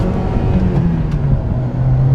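A 2006 Honda Civic 1.8L with a newly replaced clutch drives along on a test drive, its engine holding a steady, close cabin drone with road rumble underneath and no talk.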